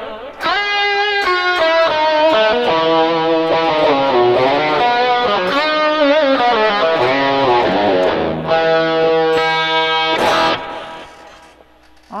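Electric guitar played through a Tom Scholz Rockman and a stereo echo unit, loud distorted sustained notes and bends with echoing repeats, phrases ringing out and fading near the end.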